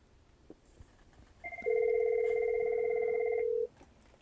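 A Cisco 9800 series desk phone rings during a test call, a single steady electronic tone lasting about two seconds in an otherwise quiet room.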